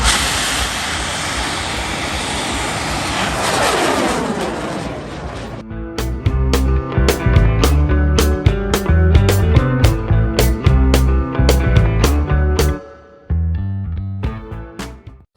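A loud rushing roar of a bamboo rocket launching at a Lao rocket festival (Bun Bang Fai), whooshing and sweeping for several seconds, then cut off abruptly as rhythmic music begins.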